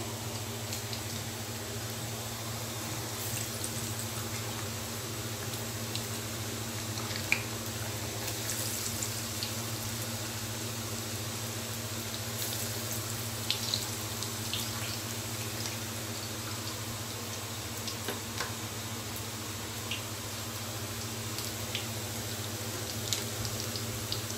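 Potato bajji fries in hot oil with a steady, faint, even sizzle and occasional soft pops, continuing alone without any talking.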